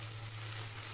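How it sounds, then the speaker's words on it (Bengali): Onion frying in a pan for chirar polau, a steady close sizzle with a constant low hum underneath and no voices. "পেঁয়াজটা ভাজা হোক, তারপরে আমি আলু দেব।"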